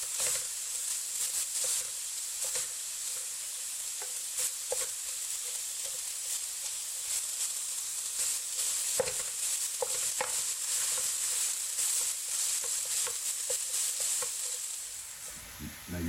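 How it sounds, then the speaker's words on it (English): Breakfast sausage browns in a pan, making a steady, close sizzle that lasts throughout, with occasional stirs and scrapes of a utensil. "So let's get this browned up"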